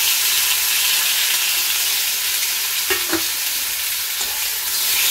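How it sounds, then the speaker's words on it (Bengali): Papaya sizzles loudly in oil in a frying pan as it is sautéed, a dense continuous hiss with a few scraping stirs of the utensil partway through. "এবার আমি পেঁপেটাকে একটু ভাজা করে নিচ্ছি"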